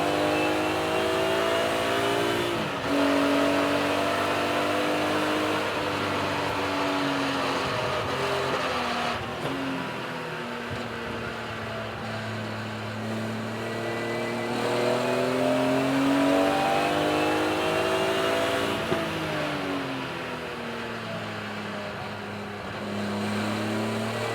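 A BMW race car laps Donington Park, its engine loud and steady, climbing and dropping in pitch as it accelerates and shifts through corners, with no talk.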